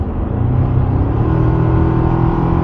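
2024 Toyota Tacoma pickup engine in Sport Plus mode, a loud, steady low rumble with a climbing tone as revs build, heard from inside the cab without talking.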